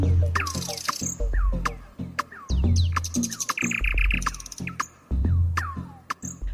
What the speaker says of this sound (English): just like this nightingale, the bird that sings out in the dark.